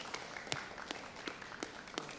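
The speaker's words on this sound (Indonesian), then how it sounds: "Kita tepuk tangan lagi." Sparse applause rises from an audience at a parliamentary legislative body hearing, scattered individual claps ringing out at uneven intervals over a low room murmur rather than a full ovation.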